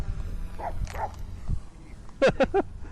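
A dog at an abandoned tomato packaging house gives three quick, close barks in a row near the end, after some scattered handling noise and voices.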